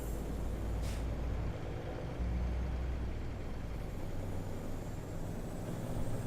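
Bus air brakes in Euro Truck Simulator 2, driving through snow in Brazil: a steady, fairly loud engine and road rumble with a brief high hiss of brake air near the start, no voices.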